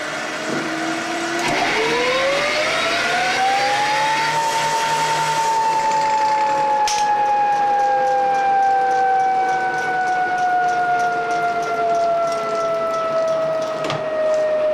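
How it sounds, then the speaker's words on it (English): A jet turbine in a streamliner jet racer is spun up by its starter drive in a dry-run test, a loud tonal whine rising over the first few seconds, then holding and slowly falling as it keeps spinning on its own, with no talk. "the chain has now stopped, turbine is still spinning."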